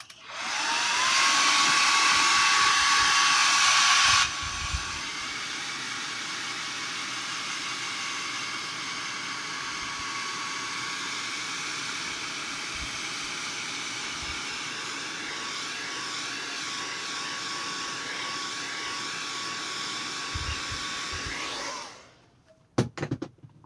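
A hair dryer blows a steady, loud rushing whoosh close by while drying a Halloween house craft piece, a harsher burst at the start settling into an even drone for about twenty seconds before switching off.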